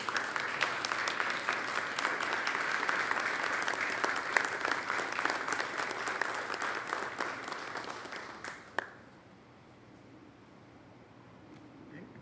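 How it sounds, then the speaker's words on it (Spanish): An audience stands and applauds Dr. Juan Francisco Puello Herrera at his induction into the Academy of Sciences, a sustained roomful of clapping that stops abruptly near the end, leaving quiet hall tone. "Un aplauso para él"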